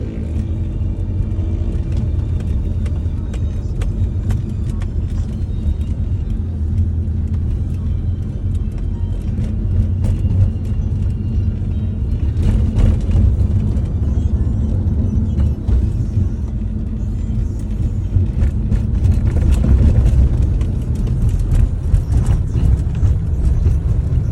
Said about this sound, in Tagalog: Ang ating driver nagda-drive